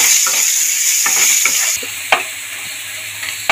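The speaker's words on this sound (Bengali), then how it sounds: "দিয়ে পেঁয়াজটাকে ভেজে নেব।" Chopped onions with a little salt sizzle in hot oil while a spatula stirs and scrapes the pan in a few sharp knocks, close and without talk.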